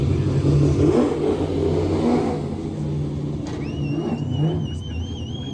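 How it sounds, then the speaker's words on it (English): A Mustang race car at a hill-climb event, its engine revving hard and rising in pitch as it passes, loud and close, with a faint whistling whine near the end. "I really wanted to see this Mustang run. This thing's got to sound wicked when he's flying by."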